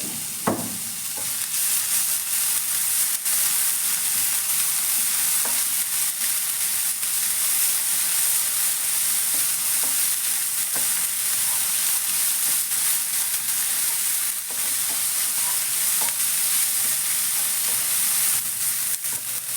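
Pumpkin sautéed with green chilli, onion and tomato in a pan, a loud close sizzle with scattered scraping and tapping of the spatula, continuous and without any speech.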